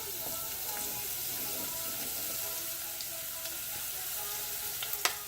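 Spinach, cumin seeds and garlic fry in a pan with a steady, close, crackling sizzle throughout and a sharp clink near the end.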